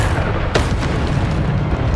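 The Bombarda spell in Hogwarts Legacy goes off as a single sharp, booming blast partway through, set against a dense, steady wash of rumbling game noise.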